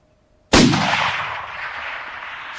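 One loud, close hunting rifle shot booms outdoors on an African hunt, with a sharp onset and a long rolling echo that fades slowly.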